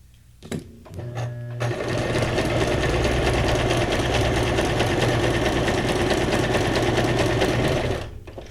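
A home sewing machine stitches in one long, steady whirring run at close range, starting after a few clicks and stopping abruptly near the end, with no voices.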